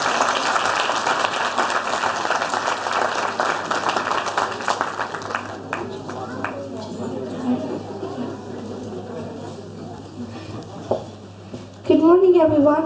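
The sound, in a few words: audience applause for a child's award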